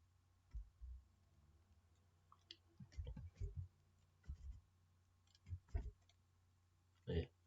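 Someone types on a computer keyboard in short, irregular clusters of quiet key clicks with gaps between bursts, close up over a very low background hum.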